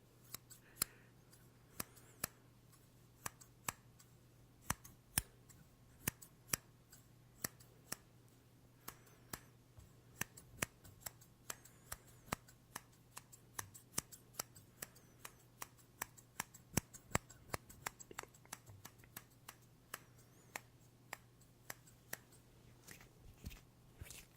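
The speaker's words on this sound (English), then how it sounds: "And then we'll do a couple snips to the right." Scissors snipping close up in a quiet ASMR setting, dozens of crisp, sharp clicks in an irregular but steady sequence over a faint background hum.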